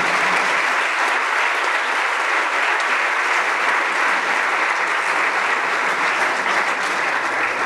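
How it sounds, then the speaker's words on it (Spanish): Loud, sustained applause from an audience fills an awards gala at Gamelab Barcelona 2012, a dense, steady roar of clapping that holds for several seconds. "Un fuerte aplauso."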